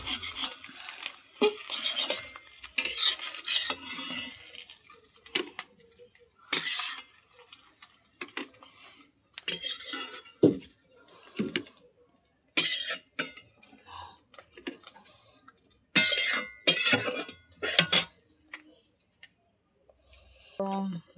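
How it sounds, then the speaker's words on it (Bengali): A utensil scrapes and taps against a plate while a double fried egg is cut into four pieces, in irregular bursts of rasping and clinking separated by quiet gaps, close and moderately loud. "ডিমটা 4 টুকরো করে নেব"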